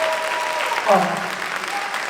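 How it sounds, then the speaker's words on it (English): Audience applause at a Southfield A&T Warriors celebration, steady clapping filling the room while someone briefly speaks over it. "Give them one more round of applause,"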